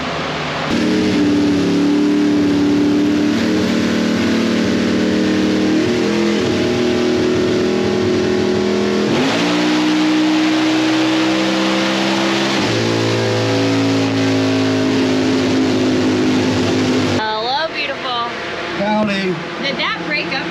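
The Hulk car runs a dyno pull, its engine droning loud and steady at high revs, climbing in pitch, dipping and climbing again before cutting off near the end, with brief voices afterward.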